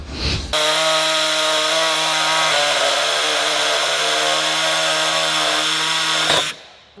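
Metal is cut on an RB26-swapped Nissan S13 Silvia build with an air hacksaw or grinder, giving a loud, continuous buzzing whine that runs steadily for about six seconds and then stops abruptly, with no talk.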